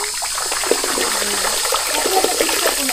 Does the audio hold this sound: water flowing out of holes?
yes